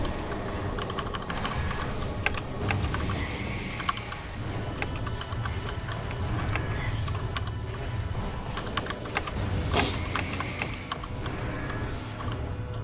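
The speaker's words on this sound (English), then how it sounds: "Listen to how fast I'm clicking" Rapid, continuous computer mouse clicking during Metroid Prime gameplay, a dense stream of sharp close clicks with game sounds underneath and no speech.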